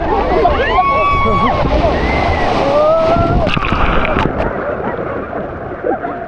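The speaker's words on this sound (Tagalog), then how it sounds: "Ang lakas ng alon." Strong ocean waves slosh and crash near a boat on a tour off El Nido, Palawan, loud and close with heavy wind noise on the microphone and people talking throughout.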